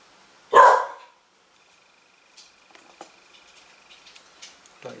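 A single dog barks once, loud and close, a short sharp burst, followed by quiet faint clicks and small rustles in a room where someone is painting roses.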